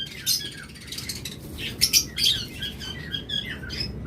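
Pet birds chirp and tweet nearby in a rapid series of bright, high calls, some louder peaks standing out over a steady low background hum. No one speaks.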